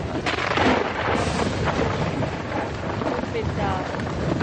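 Heavy rain and gusting wind roar in a storm on the Zambezi River, with deep rumbles like thunder and a voice faintly heard beneath.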